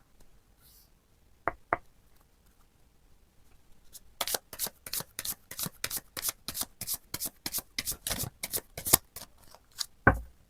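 Tarot cards riffled and shuffled in a rapid run of crisp flutters and taps, close and fairly loud, after a couple of isolated card snaps near the start and a final sharper slap; no talking.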